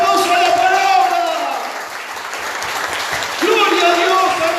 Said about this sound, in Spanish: Vamos a dar un fuerte aplauso a la palabra.